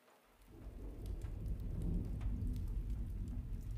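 Heavy rain pours steadily in a video game storm scene, with deep rumbling thunder building after a quiet start and rolling loudly beneath the downpour throughout.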